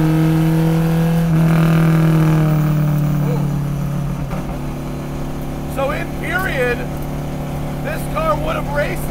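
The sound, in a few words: vintage Alfa Romeo GTA race car engine on track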